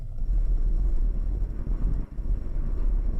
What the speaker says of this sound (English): I can hear a bit of wind noise since it's really windy today